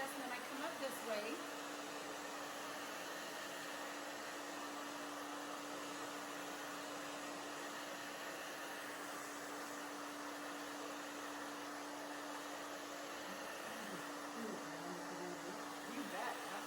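A hair dryer blows steadily with a constant hum and airy rush while drying thick hair during a bob haircut, with brief talk beneath.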